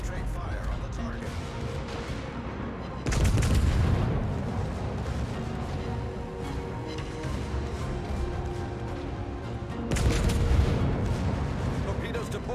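Heavy warship guns fire in World of Warships, two loud booming salvos separated by several seconds over continuous game noise, with voices calling out during play.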